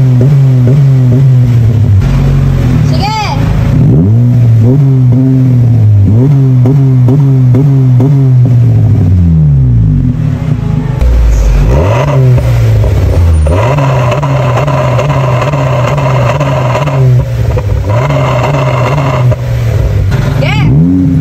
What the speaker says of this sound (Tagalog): So magsa-soundcheck kami ng mga mufflers na available.